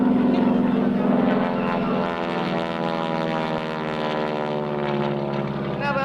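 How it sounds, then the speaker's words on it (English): A Hamilton Standard propeller driven by a 1,340 cubic inch, 600 horsepower Pratt & Whitney radial engine roars loudly and steadily with a rasping prop-tip bark at an air force base open house. "Now that bark you hear, that's not really the engine, that's a prop tip."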